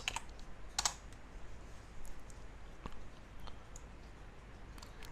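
A password being typed on a computer keyboard at a Linux terminal, heard as a short run of quiet, scattered key clicks with one sharper burst of keystrokes near the start.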